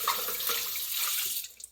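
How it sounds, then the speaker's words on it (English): Dandelion roots rinsed under a running kitchen tap, a steady close hiss of splashing water that thins and trails off near the end. "I'm going to rinse this out"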